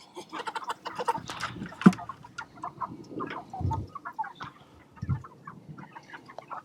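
Chickens cluck and squawk up close on a farm as a bird is weighed, with busy, irregular calls, a few louder squawks and a soft low voice now and then underneath.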